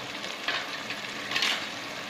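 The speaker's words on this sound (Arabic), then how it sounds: "نخلي هكا يتقلى شوية" Onion and chicken fry in a pot for a stewed chicken dish with artichokes and peas: a soft, steady sizzling hiss with a couple of brief louder crackles, close and fairly quiet, with no talking.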